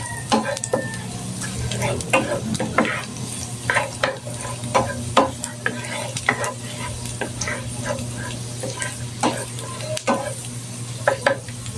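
Chicken pieces browning in a hot pan for a creamy mushroom chicken dish, with a steady sizzle and repeated scraping stirs throughout, fairly close and moderately loud.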